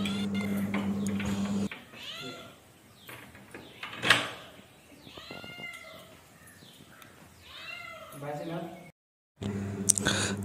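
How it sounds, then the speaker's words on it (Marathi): A village cat in Kokan meowing around people's feet, giving a few short, faint mews scattered among quiet rustles and movement, with people talking nearby. "आता ही मांजर आली आणि आता आमच्या पायाभोवती अशा गिरट्या घालते."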